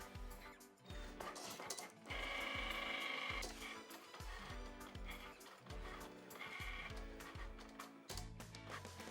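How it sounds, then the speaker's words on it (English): A Cricut cutting machine cuts vinyl for a stencil. Its small motor whirs in short stop-start bursts, with mechanical clicks and higher whining passes as the carriage moves, quiet and close. "click the flashing Cricut logo to start the cut"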